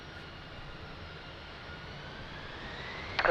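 Airbus A320 jet engine roar at Lisbon Airport in the rain, a steady, broad rumble held at a constant level throughout with a brief sharper burst at the very end.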